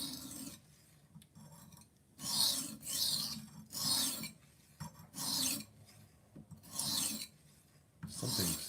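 A kitchen knife is drawn across a whetstone in about six steady, rhythmic rasping strokes, each a bright gritty scrape separated by short pauses. The strokes are close and clear, with no talking.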